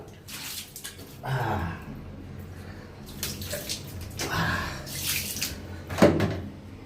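Water splashes in a few separate bursts, close by, with quieter gaps between them, like hands scooping water onto a face.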